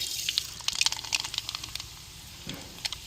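Mustard seeds drop into hot oil in a pan for dried anchovy gravy, giving a faint, fine crackle of quick pops and sizzles that flare briefly and then fade.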